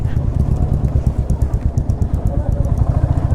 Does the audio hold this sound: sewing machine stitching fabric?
no